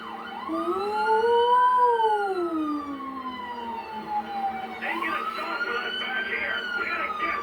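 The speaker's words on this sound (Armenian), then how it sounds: "Հա գնացինք, սիրենաները միացնում ենք։" Police car sirens from the video game GTA 5 wail loudly in long rising and falling sweeps, then shift into a faster, higher wail toward the end.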